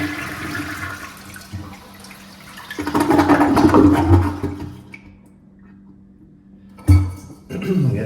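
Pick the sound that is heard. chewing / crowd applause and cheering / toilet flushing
toilet flushing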